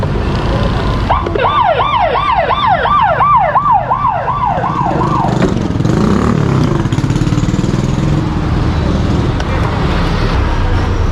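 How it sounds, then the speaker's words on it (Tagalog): A wailing emergency siren, likely a police vehicle parked on a street, sweeps up and down in a rapid repeating whoop for several seconds, loud over constant roadway traffic noise, then cuts off as traffic rumble continues. "Nagbubusina na po, nagawangwang 5 minutes."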